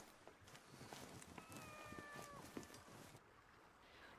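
A cat in the adventure game Mystery of the Druids gives one faint, drawn-out meow with a rising and falling pitch, set against a soft, steady ambient background.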